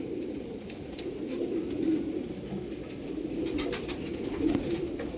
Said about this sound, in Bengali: দেখুন দুটো পায়রা